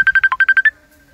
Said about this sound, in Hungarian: mert ez a telefon az meg fog ismétlődni.